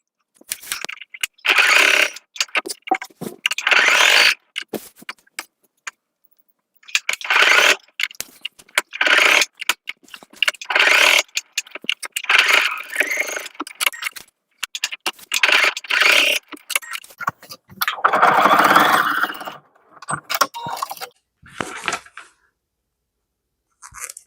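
Tote bag straps are sewn on a machine, producing repeated loud bursts of whirring stitching broken by short pauses, close and with no talk.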